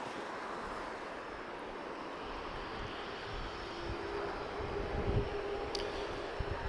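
A German Air Force Global 5000 business jet departs Lisbon Airport, a steady broadband jet roar heard from a distance, swelling slightly toward the end with wind-like hiss and no talk.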